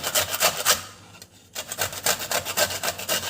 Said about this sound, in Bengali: এবার একটা গ্রেটার নিয়েছি এবার এই গ্রেটারের সাহায্যে পটলগুলো এভাবে